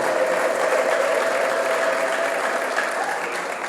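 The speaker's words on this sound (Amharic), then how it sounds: "ታላቅ እልልታ ጭብጨባ ለንጉሱ ክብር" An Ethiopian church congregation bursts into sustained, dense applause mixed with high ululation during a sermon, a loud crowd wash lasting the whole moment.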